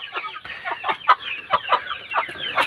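Flame, a pet chicken, clucks in a quick run of short, close calls, about a dozen sharp clucks in under three seconds with brief pauses between them.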